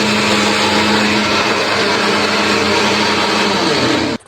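A kitchen mixer grinder churns masala for mushroom biryani in a loud, steady, high-pitched whir that holds unbroken for about four seconds, then cuts off abruptly.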